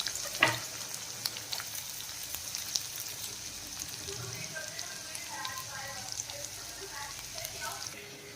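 Chopped onion hits hot oil already holding garlic and ginger, a soft crackling sizzle with sharp spatters and stirring scrapes under a voice.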